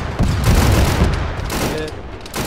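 A loud, close volley of gunfire in a military video game, with overlapping shots and booms packed into a dense burst that eases briefly and then picks up again.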